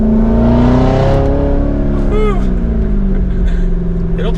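A Chevrolet Corvette C7 Z06 accelerates hard from second gear, its engine note climbing loud and close with a rising harmonic sweep, then a quick shift and continued pull, heard from inside the car.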